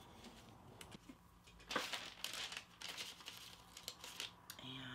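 Decorative paper pressed and smoothed onto a window pane for reverse decoupage, with soft close crinkling and rustling strokes that come in short irregular bursts and grow louder midway.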